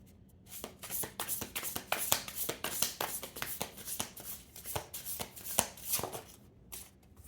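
Tarot cards are shuffled by hand in quick repeated riffles and slaps, a run of close crisp bursts with short pauses between, and no voice over them.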